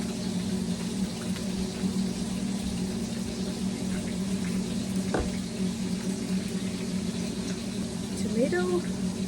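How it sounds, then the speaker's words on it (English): Bacon fries in a pan beside burgers, a steady broadband sizzle with a faint clink or two, and a voice talks over it. "we're gonna put on some bacon"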